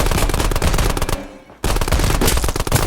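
Rapid machine-gun and rifle bursts crack loudly as soldiers open fire in a cinematic tabletop battle, a dense fusillade that cuts out briefly mid-clip before resuming just as hard.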